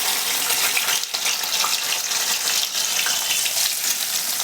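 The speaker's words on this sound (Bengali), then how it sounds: "এবার এই পেঁয়াজটা ভালো করে ভেজে নিতে হবে।" Onion paste frying in hot oil with tempered spices for paneer mutter masala, a steady loud broadband sizzle that runs unbroken and close throughout, with no talking.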